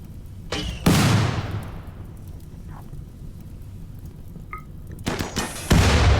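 Gunfire in a RimWorld-style colony video game: a sharp shot bursts in near the start, a long decaying blast follows, and more loud shots cluster near the end over a steady rumbling background.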